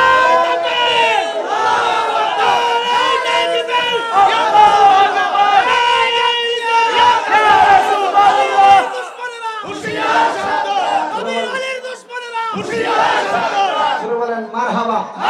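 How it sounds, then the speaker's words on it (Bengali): A large crowd at an Islamic waz sermon gathering loudly chants the takbir in unison, a roaring, surging chorus of many voices that swells and dips in waves over several repetitions. "একটা জোরে তাকবীর"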